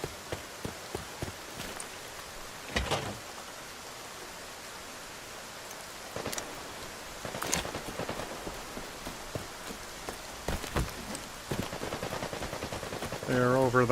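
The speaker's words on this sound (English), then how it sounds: "Oh, I hear gunshots." Scattered sharp gunshot cracks in the video game Arena Breakout: Infinite, several bursts spread irregularly over ambient noise, some distant and some closer, ending with a brief synthetic electronic flourish.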